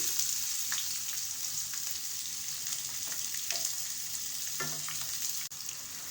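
Two medium onions, finely chopped, frying with cumin in a pan for an aloo baingan curry: a continuous bright sizzle and hiss fills the whole stretch, with a few faint spatula taps and one brief knock near the end.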